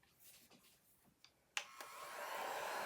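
A heat gun switches on and blows steadily to dry chalk paint on a T-shirt, preceded by a few handling clicks and then settling into a continuous rising whoosh.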